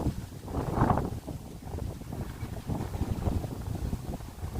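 Wind gusts buffet the microphone with low rumbling bursts that swell and fade, rough and close, with no talking.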